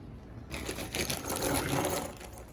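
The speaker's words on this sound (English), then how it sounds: "I'm going to go ahead and fasten in these 3 down here." Fasteners being driven into an IKEA HEMNES eight-drawer dresser during assembly, a close, continuous whirring and grinding with rough scraping texture that starts abruptly and runs steadily, without speech.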